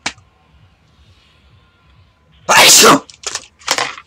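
A man sneezes once, loud and close, after a quiet pause, and a couple of short voiced bursts follow right after.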